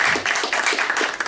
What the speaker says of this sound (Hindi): शंतनु के लिए एक बार जोरदार ताली बजाओ